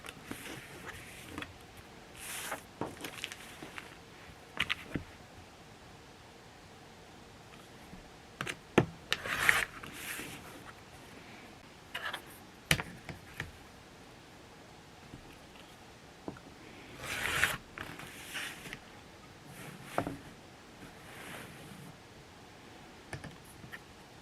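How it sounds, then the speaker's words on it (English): Scissors or a rotary cutter slicing quilting fabric along the straight horizontal and vertical lines of a printed half-square-triangle paper, giving soft, scattered crisp snips and rubs, quiet and close, with no talking. "I'm just cutting along the horizontal and vertical lines first after I've trimmed off any excess fabric"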